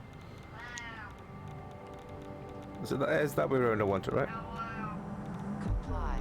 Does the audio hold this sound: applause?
no